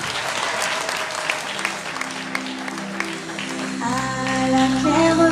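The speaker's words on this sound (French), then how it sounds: "On applaudit pour les enfants." Guests at a wedding at the Pavillon Dorian applaud the children with lively, uneven clapping, then a sustained melodic tune starts up and grows louder in the final seconds.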